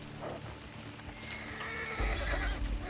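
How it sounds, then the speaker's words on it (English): A horse in the Red Dead Redemption 2 video game gives a close, loud whinny, and hooves clip-clop beneath it. "our horse is right there."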